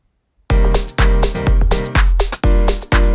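A freshly generated variation of a house piano chord riff, punchy syncopated chord stabs starting after a short silence, loud and up front with no talking.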